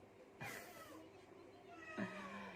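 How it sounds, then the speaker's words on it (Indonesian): A house cat meows twice, two short tonal cries spaced about a second and a half apart, fairly close in a quiet room. "Kucing."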